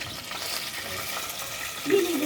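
Fish fries in a pan in a village kitchen in Sierra Leone, giving a steady soft sizzling hiss at moderate distance, with a faint low rumble underneath.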